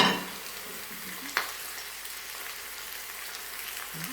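Potatoes topped with cheese sizzle and fry gently in a pan, a soft continuous crackle with one sharp utensil tap early on, fairly quiet and close.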